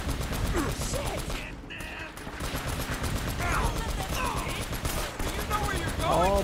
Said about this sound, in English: The minigun.